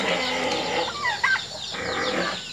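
Backyard chickens at night give a few short, agitated clucks close by over a hiss of background noise, with one sharper call near the middle.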